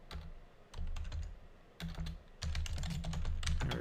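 Rapid clicking of keys on a computer keyboard in bursts of typing, close and fairly loud, with short pauses between runs and no talking.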